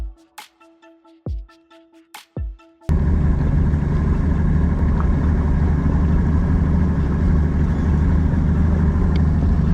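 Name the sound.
boat motor idling on a lake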